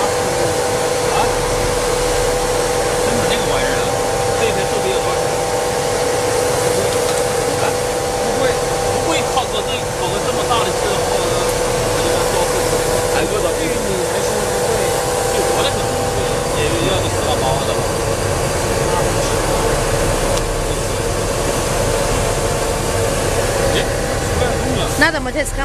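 Fully automatic polyethylene plastic film blowing machine running with a steady industrial hum and whir, blowing air continuously, while people talk nearby throughout.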